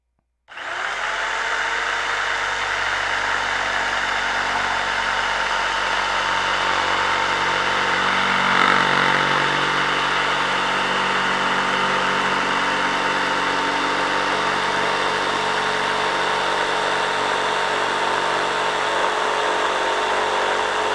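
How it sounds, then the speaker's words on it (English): A cheap electric jigsaw cuts wing tips for a Tucker XL model aircraft, running continuously and loudly for about twenty seconds with a steady, even whine and no talking. "this jigsaw was a good investment for 20 bucks"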